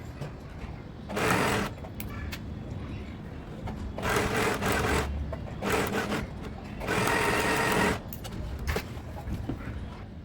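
A sewing machine stitches lace onto a crop top, running in three distinct close bursts of rapid needle chatter separated by short quieter pauses.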